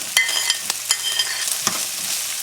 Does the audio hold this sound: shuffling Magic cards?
no